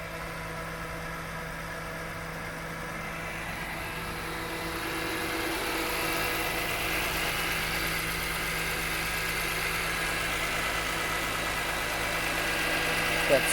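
A BMW E46 M3 with an SMG gearbox idles steadily with a low, even hum and faint mechanical ticking; the engine note holds constant, slightly swelling in level, with no talk over it.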